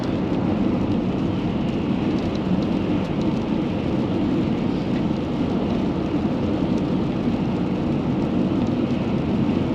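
Steady rain falls in Idaho, a dense, even roar that holds at the same level throughout with no voices.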